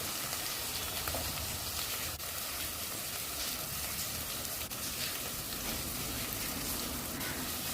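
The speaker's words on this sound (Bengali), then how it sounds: "আমি সম্পূর্ণ মশলাটাকে এবার একটু মিডিয়াম স্টিমে খুব সুন্দর করে ভেজে নেব।" Spice paste with turmeric and salt frying in a pan at medium heat for a katla fish curry, a dense, even sizzle and crackle that runs continuously at close range with no voices.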